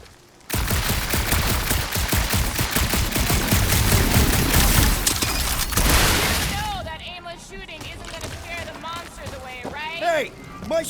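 Dense, rapid blaster gunfire in the Guardians of the Galaxy video game roars loudly for several seconds, then cuts off, leaving in-game voices talking with lighter effects behind them.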